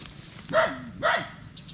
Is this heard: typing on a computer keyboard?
no